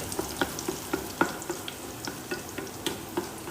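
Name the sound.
mustard seeds, cumin, chilli, curry leaves, garlic frying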